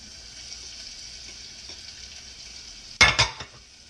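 Garlic and onions fry in a pan of half butter and half olive oil, giving a steady, even sizzle. Near the end a louder burst of hissing and clatter rises briefly, then settles back.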